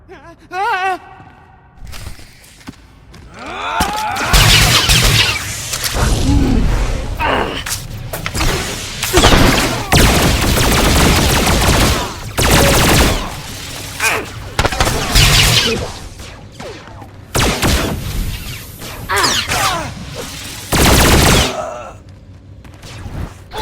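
Blaster gunfire in the Star Wars: The Old Republic video game, loud bursts and repeated shots over about twenty seconds with thuds and impacts, mixed with speech and battle sounds.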